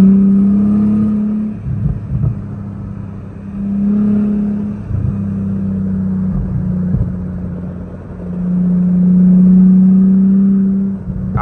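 Mercedes W210 sedan with a 3.2 liter V6 accelerating from a light at night, steady engine drone rising in pitch through gear changes, heard from inside the car with no talk.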